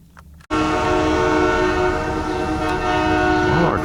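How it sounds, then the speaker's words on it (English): A Whitewater Valley Rail Road train horn blows in one long, loud, sustained chord that cuts in abruptly and holds, with rumbling rail noise beneath and no talking. "Well, our train's supposedly coming."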